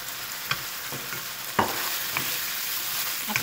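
Carrots and celery stir-frying over high heat with cooked chicken for chow mein, a steady close sizzle broken by a few sharp scrapes and clanks of the spatula in the pan.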